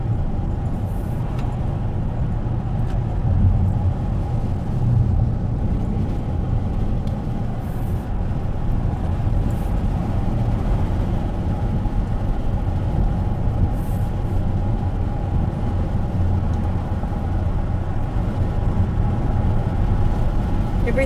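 A car drives along a road toward a lake, giving a steady, even rumble of engine and tyre noise from inside the cabin that holds unbroken throughout, with no talking heard.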